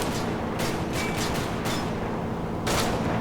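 Gunfire from the video game Commandos Strike Force, set in Norway: a few sharp bursts of shots over a steady, dense battle background, with a louder burst near the end.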